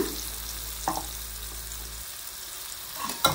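Aila fish (mackerel) fries in oil in a pan, giving a soft, steady sizzle and crackle at low volume, with a couple of brief clinks or stirring knocks and no talking.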